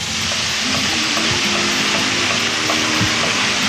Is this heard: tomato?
yes